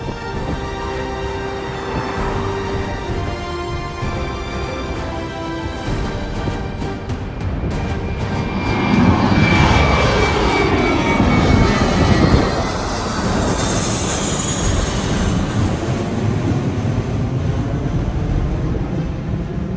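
A United Airlines jet airliner roars overhead in St Lucia, its rumble and whine swelling to a peak midway, then slowly fading while the drone lingers.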